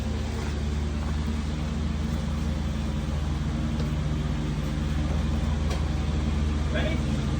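A supercharged GM 3800 V6 swapped into a Chevy S10-framed Corvair idles steadily nearby, a continuous low mechanical drone with faint intermittent clanks over it.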